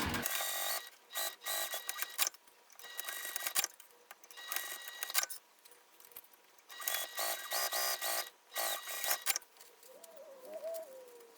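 A sewing machine stitching a handmade bag runs in loud bursts of rapid mechanical whirring, starting and stopping several times with brief pauses between runs.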